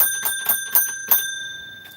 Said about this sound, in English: So the bells are ringing.